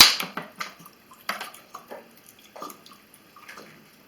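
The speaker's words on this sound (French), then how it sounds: "vous versez 2 verres de vinaigre d'alcool dans le récipient" White vinegar poured by the glass into the reservoir of an electric coffee maker, a thin trickling and dripping pour with light splashes and short bursts, close and fairly quiet.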